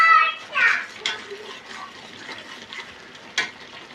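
Spice paste fries and sizzles in oil in a pan for a silver carp and eggplant curry, with stirring scrapes and a voice in the background.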